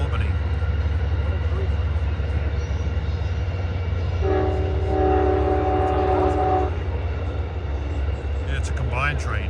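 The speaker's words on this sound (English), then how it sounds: "Yeah, it's a combined train." Combined Amtrak passenger train, Maple Leaf and Adirondack services, rumbling past beside the Hudson with a steady heavy roar and a loud multi-tone horn blast midway, people talking nearby.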